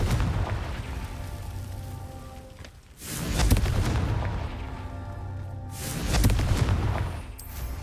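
A blasting-spell explosion in the Hogwarts Legacy video game, two heavy booming blasts with rumbling tails about three seconds apart, loud and close over a low game ambience.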